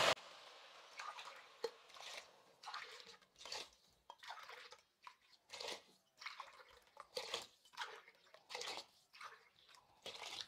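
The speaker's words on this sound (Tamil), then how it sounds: "அப்போ மொத்தமாக 6 கிளாஸ் அளவுக்கு தண்ணி ஊற்றிக்கலாம்." Water poured into a pot of rice and lentils for Tamil-style paruppu sadam, heard as a series of splashing, trickling pours with short gaps between them, close up and fairly quiet, with no talking.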